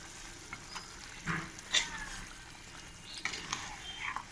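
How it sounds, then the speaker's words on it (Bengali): Mixed vegetables sizzle quietly in a pan while being stirred and tossed, soft scraping and light clinks of a spatula recurring over a low steady frying hiss. "ভালো করে নেড়ে চেড়ে সুন্দর নাড়বো"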